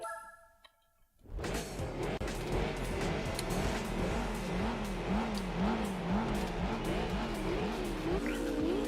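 A TVR Griffith sports car racing in Gran Turismo 4 roars in after a brief quiet start, holding a loud, continuous engine drone that rises and falls in pitch, with occasional tire squeal.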